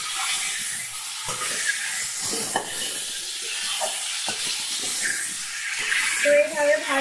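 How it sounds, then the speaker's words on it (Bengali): Food sizzles steadily as it fries in a pan, a close, continuous hiss broken by a few scrapes of a stirring utensil, with a voice briefly heard near the end. "তো দেখো আমি ভালো করে ভাজা করে নিচ্ছি"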